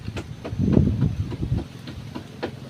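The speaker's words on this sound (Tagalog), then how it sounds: "Ang lakas ng hangin." Strong wind blowing at the seaside during an outing, a continuous low roar with rumbling gusts buffeting the microphone, loud and steady with no speech.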